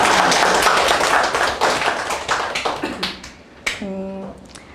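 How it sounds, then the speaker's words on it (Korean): A church congregation at a Sunday worship service applauds in a brisk burst of many hands, loud at first and thinning into scattered claps before a voice speaks near the end. "박수 쳐주세요."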